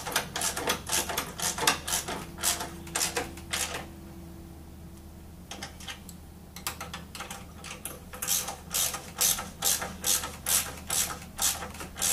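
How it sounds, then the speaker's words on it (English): A ratchet tool clicks in quick repeated bursts while tightening parts during assembly of an A.C. Performance bike, loud and close, with a quieter pause in the middle before the rapid ratcheting resumes. "Get our tools to tighten that up."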